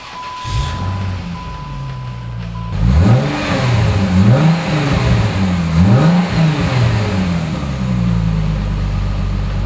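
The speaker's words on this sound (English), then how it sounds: "I'll start it for you right now so you can hear what it sounds like" A 2000 Plymouth Prowler engine cranks and fires after a chime, then runs with several rising and falling revs before settling into a steady idle. It sounds close and loud, with no talking.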